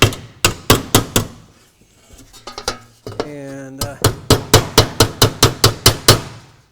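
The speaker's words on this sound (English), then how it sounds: "Take my hammer" Steel hammer striking a metal roof hip cap to bend it for the roof pitch, sharp ringing blows in rapid regular runs, close and loud, broken by a pause with scraping and a brief metallic squeal.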